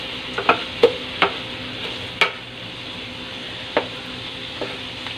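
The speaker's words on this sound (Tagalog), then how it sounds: "Unti-unti ko na siyang pinipress." Softened tomatoes pressed down while sautéing in a pan, a steady low sizzle broken by several sharp clicks and taps of a utensil against the pan, close by and moderately loud.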